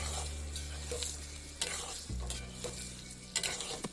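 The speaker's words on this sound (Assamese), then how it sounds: "কাজু আৰু খিচমিচৰ মিশ্ৰণখিনি তেলত ভালদৰে লৰাই পনীৰখিনি ঢালি দিব।" A cashew, raisin and milk mixture stirred in hot oil for shahi paneer, with a constant soft sizzle and scraping stir strokes clinking against the pan at irregular intervals, close and fairly quiet.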